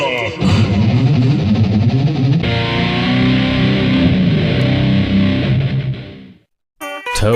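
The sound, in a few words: imitated monster truck sound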